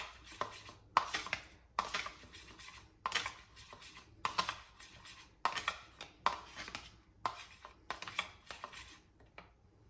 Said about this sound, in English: 1 tablespoon of pure sesame oil, now I'm gonna go ahead and mix it all together